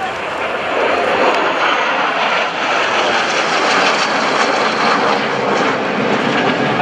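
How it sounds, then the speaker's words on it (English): Vandy 1 and an F-106 Albatross jet coming in for the break at the 2015 NAS Oceana airshow, a loud, steady, broad engine roar that holds throughout with little change. "Vandy 1 and the F-106 Albatross coming in for the break"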